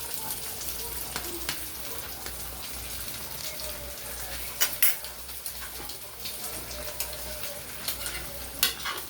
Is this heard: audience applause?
no